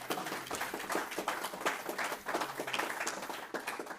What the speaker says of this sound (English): give her once again another round of applause